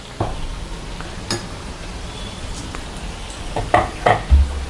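Aval vadai, fritters of flattened rice, being turned over in hot frying oil: a soft steady sizzle with a few brief clinks and stirring sounds toward the end, close by, with no talking.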